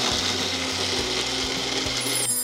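A mixer grinder whirs continuously at high speed, grinding soaked cashews, melon seeds and poppy seeds into a fine paste, a steady loud motor drone with a brief change in pitch near the end.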